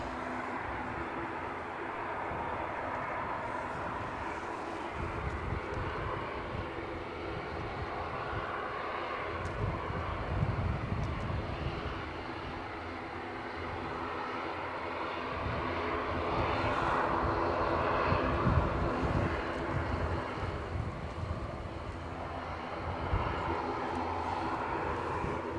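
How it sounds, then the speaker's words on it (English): ATR turboprop aircraft at Edinburgh Airport, a steady broad engine drone and propeller hum that swells gradually over the whole stretch, heard from outdoors without talk. "I can hear an ATR"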